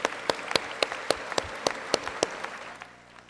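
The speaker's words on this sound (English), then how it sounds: "How about a round of applause for them" An audience at a high school graduation claps steadily, with sharp individual claps standing out over the dense applause before it fades out at the end.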